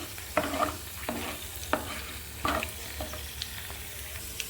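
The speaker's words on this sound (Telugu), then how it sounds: "పైనంతా ఆయిల్ వేసేసుకొని ఎండుమిర్చి పోపు దినుసులన్నీ వేసేసుకున్నానండి" Dried red chillies and tempering spices sizzle in hot oil, a constant frying hiss punctuated by several stirring scrapes and clinks of a spoon in the pan, with no voices.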